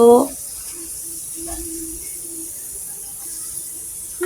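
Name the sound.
nihari meat trotters sizzling in hot oil with cumin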